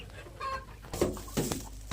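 Domestic chickens clucking near at hand while being fed on a farm, a few short clucks and squawks over a steady background hum.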